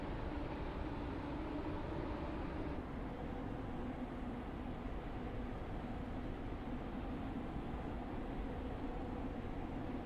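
A simulated train in a Roblox railway game runs the Newry to James Street route as it pulls into James Street station. It makes a steady, low, droning rumble with a constant hiss and no break for ten seconds.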